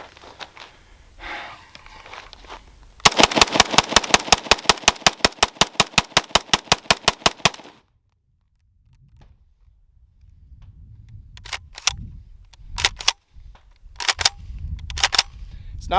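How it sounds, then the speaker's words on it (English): Rapid gunfire from a Desert Tech MDRX rifle emptying a magazine: about 4.5 seconds of loud, evenly spaced shots in a fast run. After it come silence and faint handling noises with a few sharp clicks. "just do a mag dump and see if we can get it running fast enough to break it"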